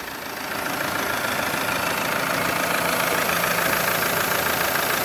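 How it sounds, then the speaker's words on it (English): A 2011 Alfa Romeo 159 JTDM 16v turbo diesel estate engine, timing-belt driven with 165k miles, idling steadily up close, a continuous rumbling drone with a faint knocking texture and no voices. "This is a timing belt driven engine."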